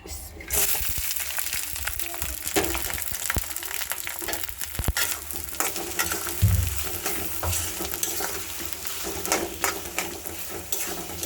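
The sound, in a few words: onion and green chili frying in oil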